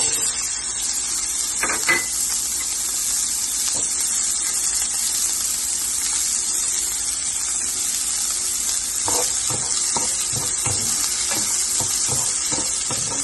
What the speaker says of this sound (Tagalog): Lagyan na po natin ng sibuyas.